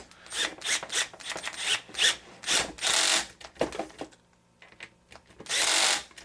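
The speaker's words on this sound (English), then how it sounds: "A little bit of trouble with my Allen wrench here." Allen wrench scraping and ratcheting against screws while tightening sway bar mounts on an HPI Baja SS RC car, a series of short, close rasping bursts with brief pauses between them.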